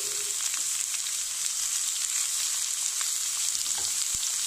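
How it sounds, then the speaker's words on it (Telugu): Finely chopped onion for a broccoli tomato curry fries in a hot pan, giving a loud, steady, close sizzle that lasts throughout without any talking. "వేగాక ఇందులో సన్నగా తరిగి పెట్టుకున్న ఉల్లిపాయ వేస్తున్నాను"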